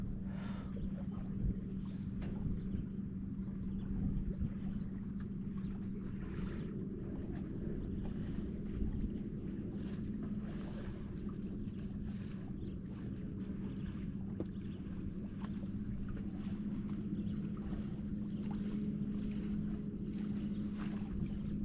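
A MacGregor 26M sailboat runs slightly downwind: a steady, even wash of wind and water noise with a constant low hum beneath it, continuous throughout and without speech.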